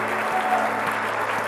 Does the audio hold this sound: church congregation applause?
yes